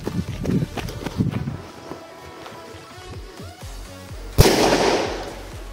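A Dumbum mini firecracker goes off outdoors with one sharp, loud bang and a short decaying rumble, after several seconds of nearby footsteps and handling noise.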